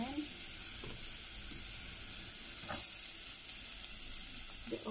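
Minced garlic sizzles quietly in a pan for sardine pasta, a soft continuous hiss with a few faint clinks and scrapes of stirring, close and without talk.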